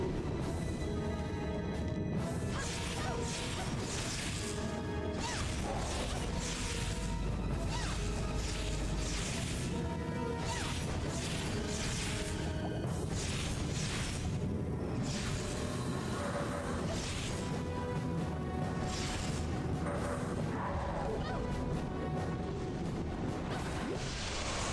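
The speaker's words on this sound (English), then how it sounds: "Whatever missile type this dude's got." Missile blasts in the PS3 game Mask of Folklore come as repeated crashing bursts and whooshes, thick and loud over a dense, continuous layer of battle noise and music.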